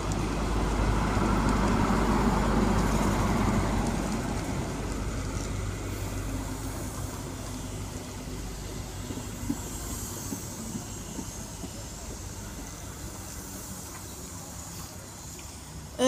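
Class 43 power car 43318 rumbles into platform 2 at Grantham station, a loud low roar and hiss that slowly fades to a quieter rolling drone as it comes to a halt.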